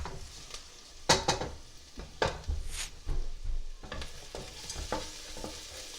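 Onions frying in a pot for moong or urad dal khichdi, a soft background sizzle broken by several sharp clatters and scrapes of a spoon stirring against the pot.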